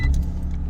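A 3-cylinder 1 litre car engine cranks and catches in a brief, loud burst of low rumble, with a light jingle of keys at the very start.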